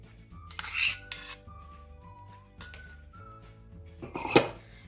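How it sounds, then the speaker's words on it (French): Whisking liquid cream, icing sugar and mascarpone in a salad bowl, with a few close bursts of metallic clinking and scraping against the bowl separated by quieter pauses. "Et on va fouetter jusqu'à obtenir une crème bien ferme."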